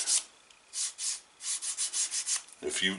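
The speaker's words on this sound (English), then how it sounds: "I've got a piece of 220 here. I keep a little piece just for this purpose. And as I do just a light sand" Light sanding of a leather edge with a small piece of 220-grit sandpaper: a series of soft, close rasping strokes in uneven bursts, with a brief rougher scrape near the end.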